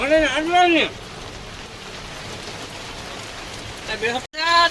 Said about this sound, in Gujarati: સરસ વરસાદ પડેલો છે અને વરસાદ ચડી ગયો છે બહુ ભયંકર વરસાદ આવેલો છે